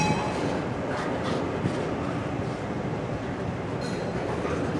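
A very long CSX freight train on the Portsmouth Subdivision rolls past nearby, making a continuous loud rumble of wagons and wheels with faint clicks and brief high squeals, unbroken from start to finish.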